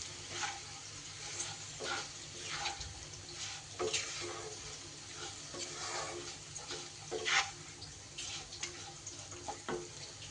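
Oats with sugar stirred in a pan over a low flame: soft, repeated scraping strokes under a faint steady background hum, quiet and close.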